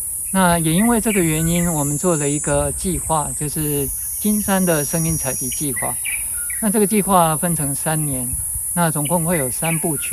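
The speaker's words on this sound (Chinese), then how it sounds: "那常常可以听到虫鸣鸟叫。" Steady, high insect chirring fills the grounds around the Juming Museum in Jinshan, running continuously beneath nearly constant speech.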